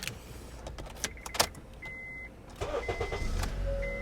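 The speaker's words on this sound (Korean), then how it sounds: "제가 그러면 시동 걸어서 엔진 소리 및 미션 체크 한번 해보도록 하겠습니다." An All New Honda Accord starts up in a few short cranking bursts, then settles into a quiet, smooth idle, with faint clicks and electrical whirs from the cabin heard nearby.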